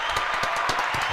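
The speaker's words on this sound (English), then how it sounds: "Can we have some claps for her?" A crowd applauds at a show, steady dense clapping held close and loud through the whole short stretch.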